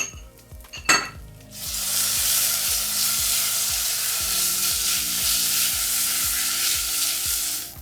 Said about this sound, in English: You want to add your ginger garlic paste and cook the ginger and garlic paste.